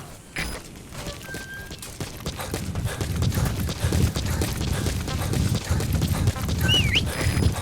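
Horse hooves clip-clop steadily in Metal Gear Solid V, a close, continuous galloping rhythm with occasional game sound effects layered over it and no speech.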